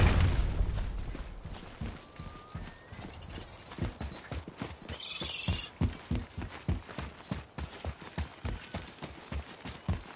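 Horse hooves clip-clop in a steady, rhythmic gallop through a God of War (2018) game scene, sharp repeated thuds close and prominent with a faint background score, no talking.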